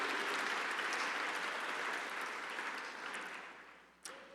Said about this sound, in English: Let's have another round of applause for the great job these honorees do